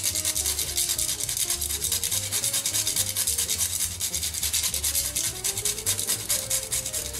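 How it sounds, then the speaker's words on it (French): A tonka bean scraped against a grater over financier batter, giving a loud, continuous rhythmic rasping of quick repeated strokes with no talking. "je vais la gratter dans la préparation"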